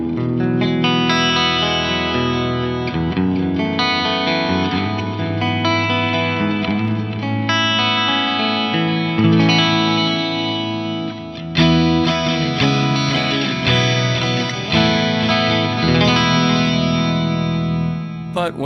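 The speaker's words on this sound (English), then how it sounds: "we have a preset that contains a compressor, an amplifier, a delay, and a reverb" Clean, washy electric guitar tone through a Fractal AM4 preset with compressor, amp, delay and reverb, sustained chords ringing with chorus-like shimmer and echo trails, played steadily and loud without voices.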